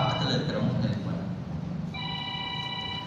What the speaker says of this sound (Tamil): யாருடைய மொபைல் ஃபோனுங்க?